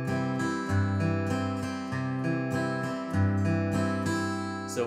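An acoustic guitar is flatpicked in a continuous down-and-up strum pattern, with bass-note downstrokes alternating with strums, bright and rhythmic, played solo and close.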